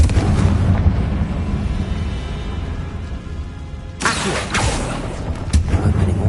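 Confringo fire-blast spell explosions in the Hogwarts Legacy video game: a sustained rumbling burst, then a sharp, loud second blast with crackling debris around the fourth second, played inside a tomb.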